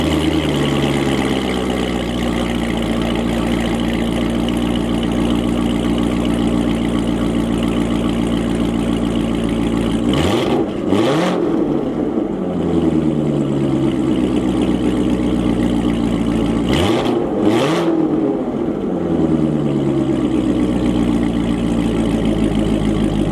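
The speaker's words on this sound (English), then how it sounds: "I'll rev it a couple of times so you can hear it" Car engine with a Corsa Extreme exhaust idling loud and close with a deep rumble, rising in two sharp double revs that fall back to a steady idle.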